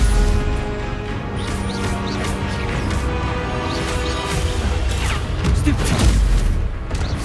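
Stupefy spell cast in the Hogwarts Legacy video game, a dense loud stretch of magical blasts, booms and crashes running continuously with no quiet gaps.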